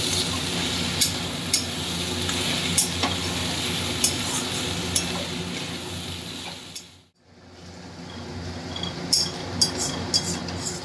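Chickpea greens (cholar shak) frying in a pan, with a steady sizzle and spoon scraping and stirring throughout, a brief dip near the middle, then continued sizzling with sharp utensil clicks.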